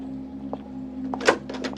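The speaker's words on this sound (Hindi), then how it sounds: "कुछ सेकंड बाद दरवाजा खुला।" A door opens with a soft click, then a louder thunk and a short scraping swing, close by over a faint steady hum.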